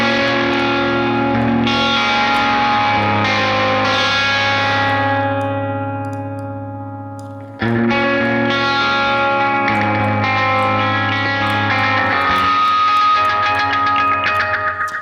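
Electric guitar played through the Neural DSP John Mayer X plugin with delay, sustained chords ringing warm and loud, their echoing tails fading and swelling before a fresh strum partway through, with no talking.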